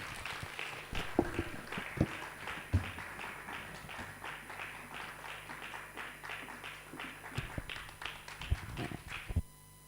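Applause from an audience after a speech by His Excellency at a Nigerian event on workplace inclusion for persons with disabilities: steady, fairly faint clapping in a dense patter through the whole stretch, with a few sharper claps standing out.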